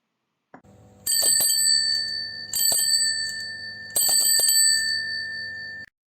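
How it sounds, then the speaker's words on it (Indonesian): A bicycle bell rings loudly and close by in three bright bursts of rapid metallic trills, each followed by a lingering ring, with no voices over it. "itu adalah suara bel sepeda yang sedang berbunyi ya."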